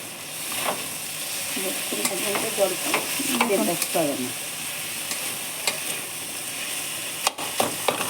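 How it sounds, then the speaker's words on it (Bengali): Lata fish mash frying in a pan while a spoon stirs it, giving a continuous close sizzle over scraping and clacking strokes that come in quick bursts and then fade to scattered knocks. "এখন হালকা ভাজা ভাজা করবো"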